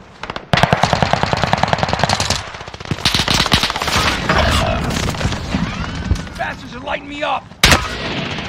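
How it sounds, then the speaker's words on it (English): Rapid automatic gunfire from Call of Duty: Modern Warfare Warzone gameplay in a Payload match, loud bursts and dense volleys with booming impacts, a sharp shot near the end, in an intense battle. "Under hostile fire!"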